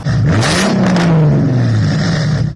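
A modified car exhaust with a deeper, bassier tone that stays within noise limits, revving loud and close: one steady rising and falling engine note fills the clip with no talk.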